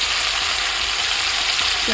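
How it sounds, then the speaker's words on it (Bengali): Chicken pieces frying in hot oil for a potato chicken curry, a steady close sizzle with soft stirring scrapes running throughout. "চিকেনগুলো কিন্তু আমি একটু তেলের মধ্যে নেড়ে ফেলে নেবো, মানে একটু হালকা ভাজা ভাজা করে নেবো"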